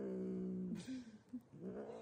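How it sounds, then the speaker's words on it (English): A cat in an online cat video lets out a drawn-out, wavering meow followed by shorter broken vocal sounds, moderately close and heard alone. "Oh, it's a kitty."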